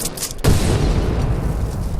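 A deep, rumbling explosion boom in the video game Titanfall 2 bursts out after a brief lead-in, then a sustained low roar fills the rest of the moment.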